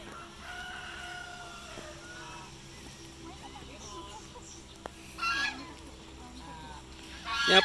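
Geese honk and ducks call amid background chatter at a mini zoo in Simpang Renggam, Malaysia, with a louder burst of honking near the end.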